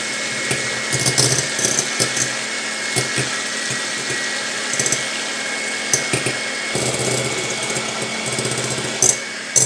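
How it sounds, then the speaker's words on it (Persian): An electric hand mixer whirs steadily as it beats five eggs in a large bowl, a close continuous buzzing drone with brief rattling knocks as the beaters hit the sides, and no talking. "با میکسر این 5 دانه تخم میزنیم."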